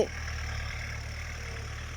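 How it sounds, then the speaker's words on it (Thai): A farm tractor engine runs steadily at a Thai elephant camp, a continuous low idling drone that holds even and moderately close for the whole stretch, with no voices. "น่าจะได้ยินเสียงรถไถนะครับ"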